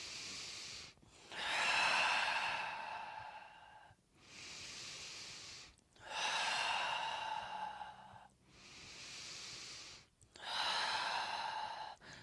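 During a meditation session, deep breaths are drawn in and let out slowly, close and airy, three long inhale-exhale cycles of soft hissing air with brief pauses between.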